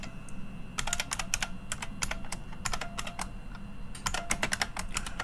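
Rapid bursts of keystrokes on a computer keyboard while copying files in MS-DOS, crisp close clicks in uneven clusters over a low steady hum.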